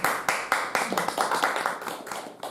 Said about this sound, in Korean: 일단 우리 강의에 계신 박수로 한번 감사의 표현하시죠.